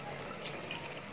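A glass of water poured into a pot of browned masala mutton makes a brief, steady, close splashing gush against soft kitchen background noise.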